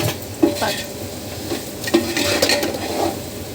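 Coriander, mint, chili powder, salt and turmeric frying in a pan, with a bright sizzle broken by repeated scrapes and knocks of a spoon stirring, close and fairly loud.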